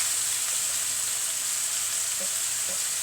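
Straw mushrooms and chilies frying in oil, a steady bright hiss and crackle of sizzling that runs continuously with a couple of faint clinks.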